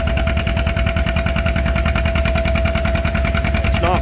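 An antique John Deere 720 tractor runs at a tractor pull, its engine thumping in a fast, steady, evenly spaced rhythm, loud and close, with a faint whine held under the pulses.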